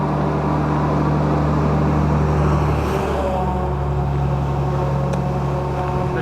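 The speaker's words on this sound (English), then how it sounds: "whoa, big truck. So it's gonna be loud right now." A big truck passes close by on a roadside, giving a loud, steady engine rumble that swells near the middle and then eases off slightly. Strong low hum with broad road noise, and no talking.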